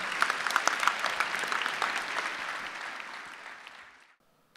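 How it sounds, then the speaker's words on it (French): Clapping from an audience at a mayor's New Year's greetings ceremony, a lively burst with some sharp nearby claps that thins and fades out, ending in near silence. "On les applaudit très fort."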